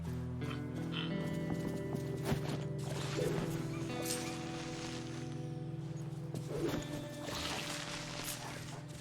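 A horse is ridden at a gallop in the Wishblossom Ranch video game, with rhythmic hoofbeats and occasional whinnies over steady background music, all fairly quiet.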